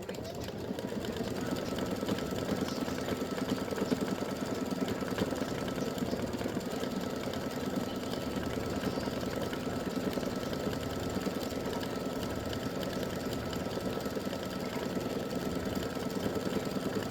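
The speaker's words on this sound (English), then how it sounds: "So now it would stitch Merry Christmas in red." An embroidery machine stitches the words Merry Christmas in red thread on an in-the-hoop mug rug panel, giving a steady, rapid, even mechanical chatter that runs unbroken and close at hand.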